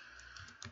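Several quick clicks of typing on a computer keyboard during AutoCAD work, close and fairly soft, with a small burst of keystrokes near the end and no talking.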